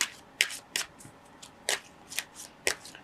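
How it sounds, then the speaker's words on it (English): Tarot cards being shuffled by hand, a run of about eight crisp riffling bursts at an uneven pace, close up and fairly quiet with no talk. "Now I'd like to draw some clarification cards"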